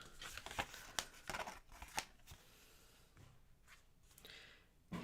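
Paper or card is cut down to size with scissors, giving a quick series of crisp snips and rustles followed by softer handling sounds, faint and close.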